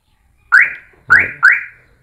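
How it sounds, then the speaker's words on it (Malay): Daihatsu Move L9 RS Turbo keyless entry chirping as PKE is switched off: three short, sharp electronic beeps, one then a pair, close and loud with silence between. "Dia bunyi sekali tu, kira dia dah off lah PKE."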